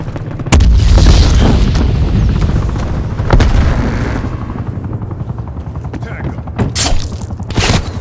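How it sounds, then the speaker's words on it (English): A hostile attack helicopter roars loud and close in the video game Call of Duty Black Ops Cold War, a sustained rotor drone punctuated by sharp booms and bursts of gunfire. "Hostile attack helicopter inbound."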